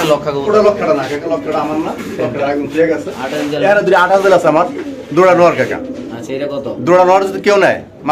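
Spanish fancy pigeons coo repeatedly in soft, throaty phrases, overlapping with nearby voices talking throughout.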